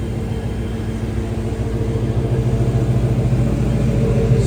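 The engine of a 1984 Chevrolet K5 Blazer idles steadily up close, giving a low, even rumble with a slight pulsing beat that grows a little louder toward the end. No one speaks.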